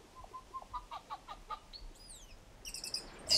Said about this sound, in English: It's great to see all the tuis back and the kingfishers and grey warblers, love them.